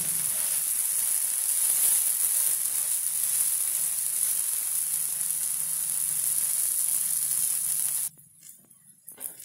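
A besan tomato omelette sizzles steadily in a pan after being flipped, a close continuous hiss that cuts off abruptly near the end, leaving faint clatter.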